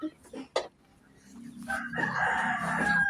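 A rooster crows loudly and nearby, its long strained call filling the second half after a few brief knocks and bumps.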